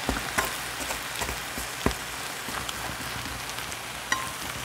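A thick, flourless cabbage pancake fries in a pan with a soft, continuous sizzle broken by small pops and crackles, close and fairly quiet, with no one talking.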